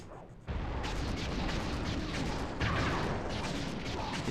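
Enemy gunfire in Sly 3: Honour Among Thieves comes as a dense, loud burst of shots that crackles on without a break, heavier and nearer after the first half second and again near the middle, with no talking.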